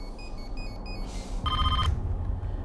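A telephone rings unanswered: electronic trilling tones, with a short burst early and then a louder, denser ring near the middle, over a low background hum.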